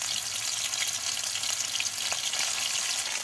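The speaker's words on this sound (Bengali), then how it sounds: "মশলাগুলো ভাজা হয়ে গিয়েছে" Paste of onion, garlic, green and dried chili frying in hot oil for a duck egg curry, giving a steady, close, even sizzle that holds without pause and has no talk over it.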